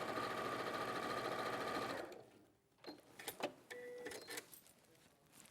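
A sewing machine runs a quarter-inch seam on a log cabin quilt block, giving a close, steady whir for about two seconds. The machine then stops, leaving quieter handling clicks and rustles.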